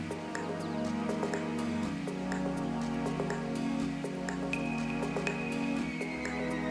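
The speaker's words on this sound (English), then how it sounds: "it was soon time to brave the rain." Rain falls at night in Britain, a steady patter of drops and drips on nearby surfaces, with low background rumble throughout.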